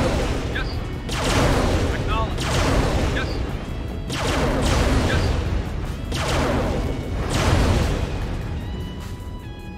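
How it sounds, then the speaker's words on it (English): Repeated heavy blasts from the ion cannon strike in Command & Conquer Remastered, a rolling series of loud booming bursts with crackling high tails recurring every couple of seconds over a dense, continuous roar of game action. "Ion cannon charging"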